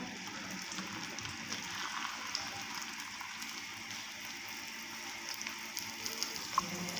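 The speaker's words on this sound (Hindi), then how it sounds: "तो ऑयल हमारा गर्म हो गया है और अब हम भिंडी को इसके अंदर डाल देते हैं।" Okra (bhindi) tipped into hot oil for a restaurant-style bhindi masala, giving a steady, dense sizzle and crackle throughout with a few sharper pops near the end.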